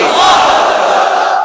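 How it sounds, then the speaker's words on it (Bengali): A large crowd at a Bengali Islamic sermon gathering shouts the takbir together, one loud, sustained unison chant of many voices lasting over a second. "সবাই মিলে তিনটা পড়েন লিল্লাহি তাকবীর"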